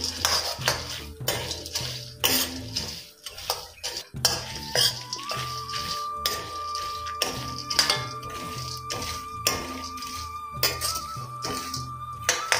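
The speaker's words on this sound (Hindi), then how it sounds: "तेल गरम हो गया है, अभी मैं गोटा डाल दूं" Peanut gota snack dropped into hot oil and stirred in a pan, with repeated metallic clinks and scraping of a spoon against the vessel over a steady low background, a continuous tone running through the latter half.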